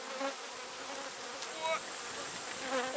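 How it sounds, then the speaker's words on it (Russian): Honeybees buzz steadily in the open air as they fly off a hive frame, a soft continuous hum with a few passing, slightly louder drones. "Ой, пчелы слетают."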